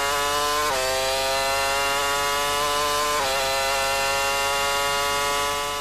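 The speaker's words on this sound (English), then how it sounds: "slight change in engine note as he is flat out along the straight" A loud, high-pitched 2002 Formula One car engine screams steadily at full throttle along the straight at Monza in practice, with two brief dips in pitch, as for gear changes, and no voices.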